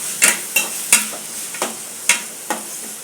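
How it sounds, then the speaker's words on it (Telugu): Chopped tomatoes, green chillies and coriander frying in a pan for a chicken and ridge gourd curry, with about six sharp spoon scrapes and clanks over a soft steady sizzle, close and loud. "ఇంకా పచ్చిమిర్చి, కొత్తిమీర దీన్ని కూడా బాగా ఫ్రై చేసుకుందాము"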